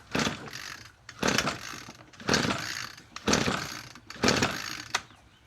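An Echo SRM-225 string trimmer that still won't run after a carburetor cleaning gets five pull-start attempts about a second apart. Each one is a loud rasping burst that dies away without the engine catching, and no one speaks.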